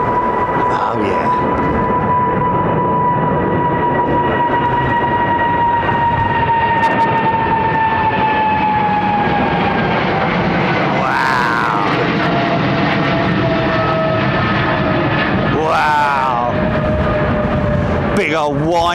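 GE90 jet engines whine loudly as a large aircraft departs overhead at Heathrow, a continuous roar with rising and falling tonal whines, and voices talk over it.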